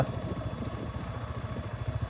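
A motorcycle engine runs close by with a steady, low, throbbing pulse and a faint rattle, holding an even level throughout without voices.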